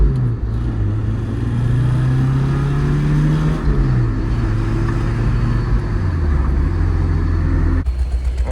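Nissan 240 drift car with no power steering and a wiring fault, its engine revving steadily as it accelerates, rising in pitch before dropping with a gear change, loud and close throughout with no talk.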